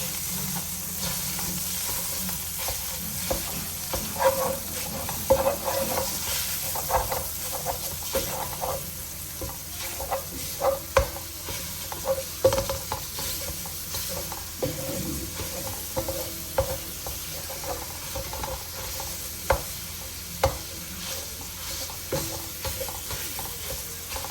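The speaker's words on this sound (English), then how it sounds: "I'm just going to break up the sausage" Longaniza sausage sizzles and fries steadily in a pan over medium-low heat, with repeated scraping and stirring clicks as it is broken up, close and continuous without talk.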